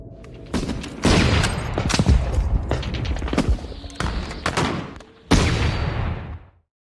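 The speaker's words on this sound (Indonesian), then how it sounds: "Beberapa tembakan peluru tepat mengenai badannya." Gunshots in a World War II battle film scene against German troops, with a series of loud, sharp, close reports separated by short gaps, some followed by metallic clanks and creaks, and the last shot ringing out into silence.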